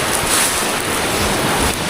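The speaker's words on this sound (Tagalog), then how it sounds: "lakas ng alon ay" Strong sea waves crash continuously against the shore, a loud, dense roar of surf and rushing water with wind buffeting the microphone, and no voices.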